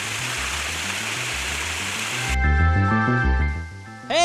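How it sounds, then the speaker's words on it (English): Fremont Falls, the tallest waterfall in Indiana, near Hanover, rushes as a steady broadband roar for about two seconds over a backing beat, then gives way abruptly to music alone. "get the full shot of the waterfall"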